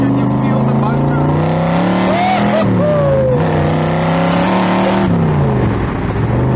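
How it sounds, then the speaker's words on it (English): A powerful car engine, the kind of car Carroll Shelby created, rumbles and revs loudly throughout with steady vibration and shifting pitch, while people talk over it. "with a car like this, you feel the vibration, you feel the motor"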